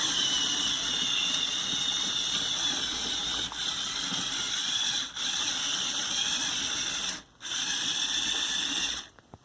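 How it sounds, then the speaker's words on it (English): A Lego Technic Power Functions motor turns the steering gears through a subtractor on an Arctic explorer truck, giving a steady, strained mechanical whir and hiss that runs continuously with a few brief dropouts. "steering is done with the Power Functions media motor through the subtractor"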